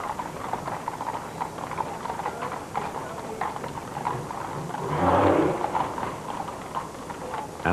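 Horses' hooves clip-clopping as they pull a gun carriage in a funeral procession, a steady rhythmic clatter with a crowd murmur swelling briefly midway.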